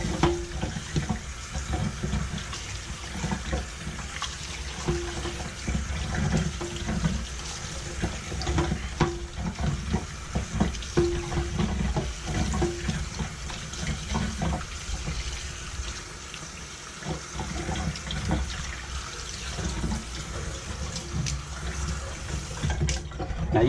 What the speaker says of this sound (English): And we're going to rinse the excess brine off.